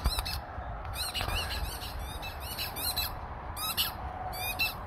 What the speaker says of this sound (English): Squeaky balls.